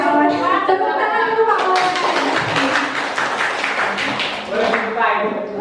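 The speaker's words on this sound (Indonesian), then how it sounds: "Tepuk tangan dulu Pak Wawan." Clapping hands in a classroom or workshop group, a burst of applause for a participant, broadband taps dense through the middle and fading toward the end, with voices talking over it.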